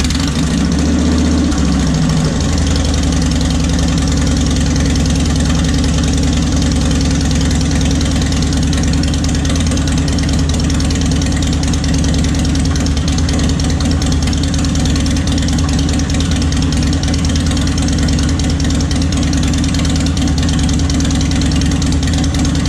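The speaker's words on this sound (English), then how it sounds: "we're going to start the bike up, let it run for 10-15 seconds, get that oil circulated" A 2014 Harley Davidson Dyna motorcycle engine idles steadily after a brief start-up surge, a loud, close, low thumping rumble running without pause.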